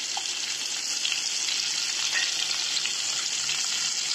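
Onions frying in hot oil for egg biryani, a loud, steady, hissing sizzle that holds evenly throughout, heard close with only faint stirring underneath.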